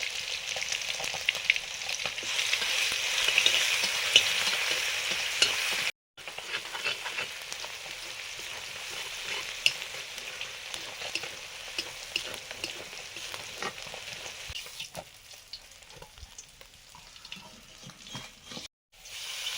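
Five-spice seeds, dried red chilli and chopped garlic fry in hot oil, giving a steady crackling sizzle close by with stirring scrapes. It runs almost the whole way, broken by two brief cuts.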